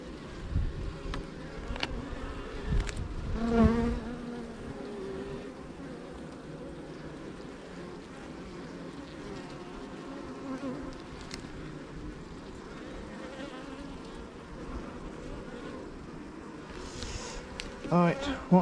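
Honey bees hum around an open hive during a nectar dearth, a soft steady outdoor drone with a few louder passing buzzes near the start and end, and some faint handling noise.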